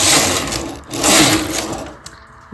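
A knitting machine carriage is pushed across the needle bed to knit two rows, giving a loud continuous mechanical whirring rush in two long sweeps, ending with a couple of small clacks.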